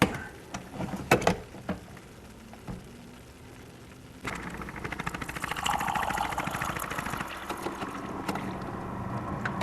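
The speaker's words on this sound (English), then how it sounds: "and let's brew a cup" A Keurig coffee maker brews a cup during descaling: a few clicks and knocks give way to a steady mechanical pump hum and buzzing drone that starts partway through and continues, close and moderately loud.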